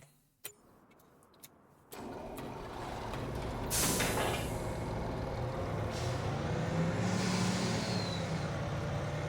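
A truck in Farming Simulator 25 sets off with an air-brake hiss after a few ticking clicks, then its engine drones steadily and loudly as it drives on, with no talk.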